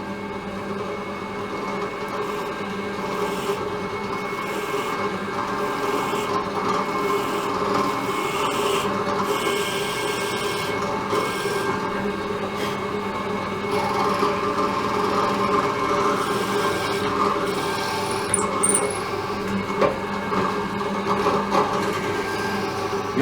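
A steady, grinding drill bores into wood with a continuous whirring rasp that runs on without pause at close range.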